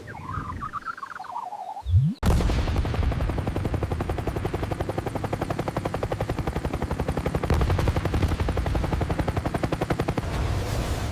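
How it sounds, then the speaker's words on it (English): An AH-64 Apache attack helicopter from 2020 in a video game battle, its rotor thudding in a loud, steady rapid pulse that starts abruptly after a short quiet moment and continues close and dominant throughout. "An AH-64 Apache attack helicopter from 2020."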